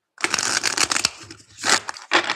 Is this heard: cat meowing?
no